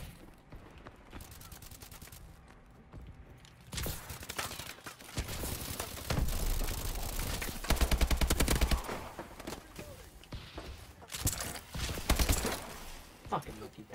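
An AK rifle fires in Call of Duty: Advanced Warfare, with repeated bursts of close automatic gunfire swelling and breaking off amid game noise, and voices talking in places.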